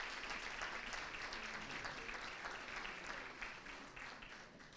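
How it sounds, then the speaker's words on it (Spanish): Quiet, distant applause from an audience at an Argentine democracy anniversary panel event, a dense patter of clapping that gradually tapers off. "Un aplauso, por favor, para los participantes."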